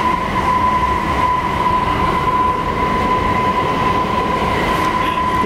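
A metro train riding through a subway tunnel, a loud, constant roar of wheels on track with a sustained metallic whine, heard close from inside the carriage with no speech.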